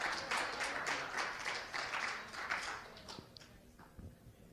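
A church congregation claps together, a fairly distant, roomy patter of many hands that thins out and fades toward the end, leaving scattered single claps and quiet room sound.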